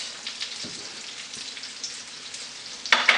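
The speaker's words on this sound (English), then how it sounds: "While the butter is melting, I'll add in a little salt." Butter melts and sizzles in a pan while butter chicken is being made, a steady close crackling hiss with small pops, rising to a louder burst of sizzling near the end.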